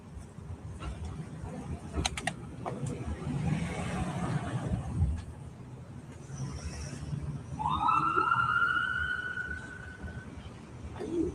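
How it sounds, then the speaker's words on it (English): Ambulance siren stuck in traffic, rising and wavering in bursts over road noise and passing cars, with faint clicks and knocks early on and the wail swelling loudest toward the end. "Ambulance blocked in traffic."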